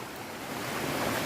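Water from a Kolli Hills waterfall, swollen by rain, rushes in a steady, loud broadband roar throughout the brief moment.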